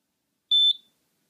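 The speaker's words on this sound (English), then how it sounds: "now you should hear a beep soon" A single short, high-pitched electronic beep from an ESP8266 and Arduino smart lock, clean and close, lasting about a quarter second before quickly fading into silence.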